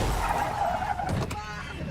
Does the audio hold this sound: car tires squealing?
yes